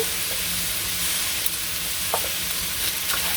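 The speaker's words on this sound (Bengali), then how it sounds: "একটু নাড়াচাড়া দিয়ে নেই একটু তো নাড়াচাড়া দিলাম" Spices, green chilli, turmeric and chilli powder fry in a pan in a village kitchen, a constant close sizzle with a few soft scrapes as they are stirred, and no talking.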